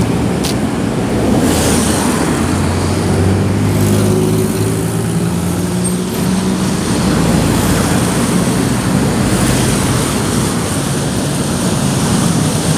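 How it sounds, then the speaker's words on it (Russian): Dense road traffic on a busy city street, a steady roar of many cars passing nearby, loud and continuous with no break. "Там машин очень много."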